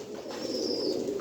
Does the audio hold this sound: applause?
no